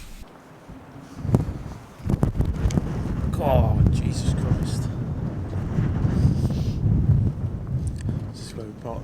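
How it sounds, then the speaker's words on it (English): Strong, gusting wind buffets the microphone on an exposed clifftop at Dunnet Head, a constant roaring rumble with heavier blasts, while a person exclaims briefly over it. "it is very, very windy"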